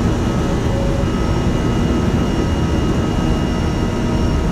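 Steady, loud roar of Airbus A320neo jet engines from a flight simulator sound pack, a continuous broadband rush with a faint high whine, unbroken and with no talking.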